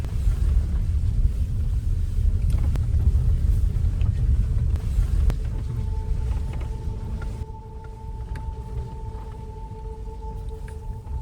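A car grinds along an off-road dirt track near Moila Top in Chakrata, a steady low engine rumble with rattling throughout, joined later by a faint sustained whine.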